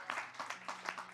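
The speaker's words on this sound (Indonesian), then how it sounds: "Yang paham berikan tepuk tangan yang meriah buat Tuhan." A church congregation at a Sunday worship service breaks into a short burst of applause, dense overlapping claps at close range with no talking over it.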